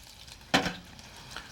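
A brief hissing sizzle bursts out once, loud and close, then fades over a low steady crackle of beer-battered shrimp frying in oil.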